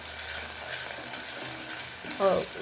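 Chopped onion and three green chillies fry in oil for a pumpkin palya, giving a steady, moderate sizzle with a brief stirring scrape near the end.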